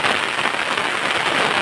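A steady downpour falls on a cotton field, a constant loud rushing patter of heavy raindrops with no pauses and no talking.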